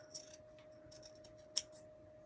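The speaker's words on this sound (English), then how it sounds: "I'm just going to trim a little bit off." Scissors trimming fur fringe for a standing bee gnome craft, a few quick, faint snips close by over a quiet steady hum, with one sharper cut near the end.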